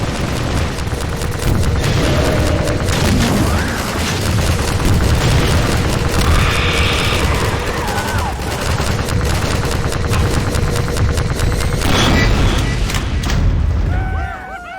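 Heavy combat from the Half-Life 2: Episode Two Strider fight at the sawmill: dense continuous gunfire and rapid automatic bursts with booming explosions, loud and close throughout, with brief shouted voices under the din.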